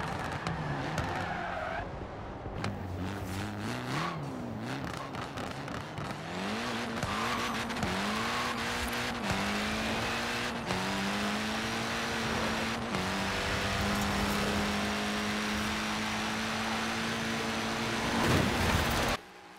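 A light, fast car with about 600 horsepower accelerates hard in the racing video game Forza Horizon 4, its engine note rising through several gear changes with tire noise underneath, loud and continuous.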